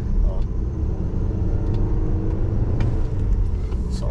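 A car engine with a small turbo rumbles and revs during a drive through Red Rock Canyon near Las Vegas, a loud continuous low drone close by with faint talk.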